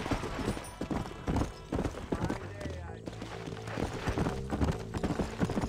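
In the Western video game Red Dead Redemption, a horse's hooves clip-clop in a fast galloping rhythm with a whinny partway through, close and loud beneath game dialogue and a player talking.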